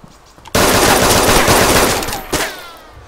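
Sustained burst of rapid automatic gunfire in a video game, loud and dense for about two seconds, then a second sharp shot before fading, with no talk over it.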